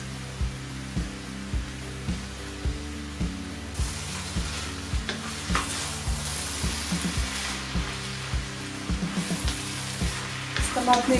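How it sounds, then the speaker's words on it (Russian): Cabbage frying with tomato paste in a small pot, a steady soft sizzle running throughout with regular light clicks of stirring, close and moderately quiet, with no talk. "С томатной пастой так вот немного капусту обжарим"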